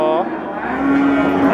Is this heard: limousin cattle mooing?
yes